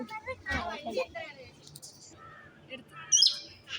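A parrot gives a brief, sharp squawk near the end, heard after people talk and chatter close by.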